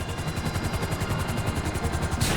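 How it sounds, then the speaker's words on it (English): A helicopter's rotor chops steadily and rhythmically in Grand Theft Auto V, a loud, dense, continuous pulsing drone with no talk. "Hold the chopper here."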